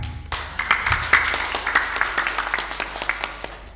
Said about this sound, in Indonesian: Kalau mau tepuk tangan jangan setengah-setengah.